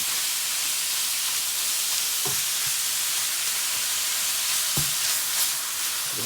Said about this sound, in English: I just want to get it broken up and moved around the pan where it can cook evenly so we get a good brown on it